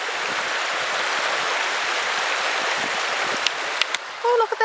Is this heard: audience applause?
no